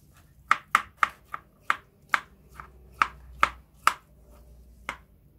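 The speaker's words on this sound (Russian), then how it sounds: "Нарезаем свеклу." A knife chops through beetroot on a cutting board in about a dozen crisp, sharp strokes at a brisk, slightly uneven pace, close and clear, with no talking.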